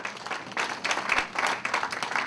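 A church congregation applauds, a short burst of fairly close mixed clapping with uneven bursts and no talk over it.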